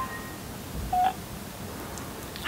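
A mobile phone is dialed with touch tones. One short, faint beep sounds about a second in, and a brief blip follows near the end over a quiet hiss, with no talk.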